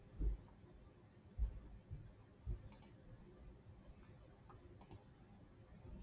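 A computer mouse clicks a few times in a quiet room: three sharp, close clicks spaced about a second apart, then fainter taps.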